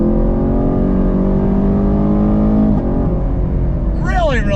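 A Chevrolet Camaro SS accelerates hard, its engine note climbing steadily and loud, then the power cuts sharply as the gear changes, followed by a rising whine and small exhaust crackles.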